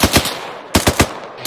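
Bursts of machine-gun fire in Arma 3 combat: a quick run of shots, a pause of about half a second, then another tight burst of three or four loud rounds, with no voices over them.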